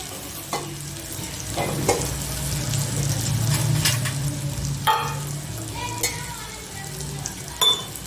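Gram flour cooking in oil over a very low flame for a Kathiyawadi bitter gourd curry, giving a steady soft sizzle with occasional scraping stir strokes, close by and without talk.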